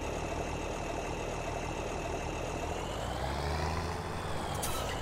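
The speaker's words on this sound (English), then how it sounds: "So the TW5 and the TW15 have exactly the same engine sounds." A Ford TW series tractor engine in Farming Simulator 2017 hums steadily at a constant idle-like drone, close and even throughout with no other sounds.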